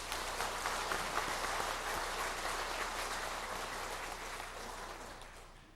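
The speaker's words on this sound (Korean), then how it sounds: "우리 성가대원들에게 하나님의 영광을 찬양해 준 것을 감사하다는 뜻으로 박수를 보내시기 바랍니다." A church congregation applauds the choir after its hymn, a dense, even patter of many hands that holds steady and then slowly tapers off toward the end, with no voices above it.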